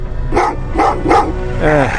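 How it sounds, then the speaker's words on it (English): Dogs bark in the video game Terminator Resistance, three loud close woofs in steady succession followed by a whining, whimpering yelp. "Oh, what's with the dogs?"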